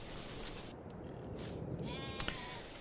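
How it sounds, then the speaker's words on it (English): Sheep in Farming Simulator 22 give a faint bleat or two in the background, set against a steady low hum of ambient game noise with no talking. "see how the sheepies are doing."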